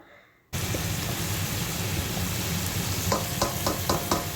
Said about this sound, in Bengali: এভাবে করে আমি প্রায় চার থেকে পাঁচ মিনিট খুব ভালোভাবে কষিয়ে নেব